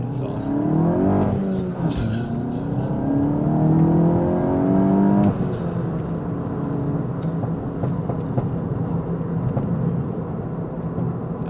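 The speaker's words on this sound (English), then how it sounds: "what you guys are hearing are the intense crackles" A tuned Volkswagen Golf Mk8 is driven with its exhaust tuned to crackle, its engine droning and rising through revs while sharp pops and crackles snap at intervals, heard from inside the car.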